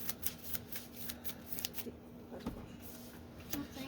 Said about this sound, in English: And I'll take those and shuffle them back in.